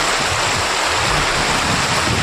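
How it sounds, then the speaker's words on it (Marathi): Rushing water after a night of heavy rain, a loud, steady, broadband roar close by with no voices over it. "पाण्याचा आवाज येऊ राहिला का नाही?"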